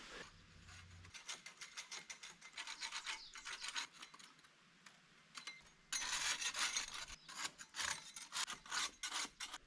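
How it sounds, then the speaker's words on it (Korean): Paint being scraped off an exterior house wall under the roof, rhythmic rasping strokes in bursts, close and fairly faint, with short pauses between passes. "지붕 아래쪽을 페인트를 긁어 보겠습니다."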